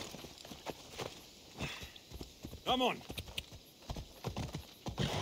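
Horse hooves clip-clop in Assassin's Creed Odyssey, a steady walking gait with a brief whinny in the middle, mixed under someone talking.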